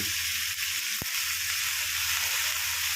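Squid and onion flowers stir-frying in a pan with oyster sauce, fish sauce and sugar, a steady close hiss of sizzling with a brief utensil knock partway through.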